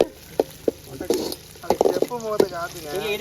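Dried red chillies dropped into hot oil for a chicken gravy, with bursts of sizzling and spoon stirring close by while someone talks over the cooking.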